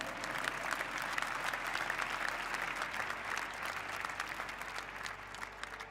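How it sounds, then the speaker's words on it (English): Steady, sustained applause fills a large esports award ceremony venue, an audience clapping continuously at even volume with no speech. "Please give an applause to the 2nd and 3rd place"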